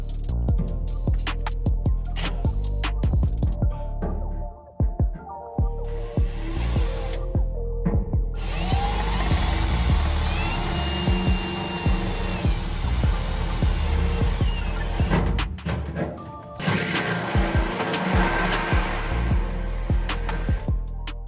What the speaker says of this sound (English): let's go ahead and get our hole saw out and drill a hole right there